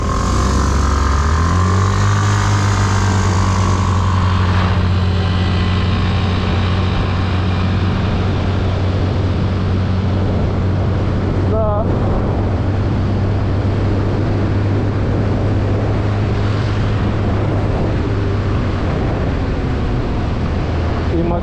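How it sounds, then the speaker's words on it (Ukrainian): Yamaha Cygnus Ray ZR and old Suzuki Address 125 scooters accelerate together on a road, engines rising from idle into a loud sustained droning whine as they pull away, with wind noise on the microphone. "по набору зараз перевіримо, як їде 125 стара і оцей Cygnus"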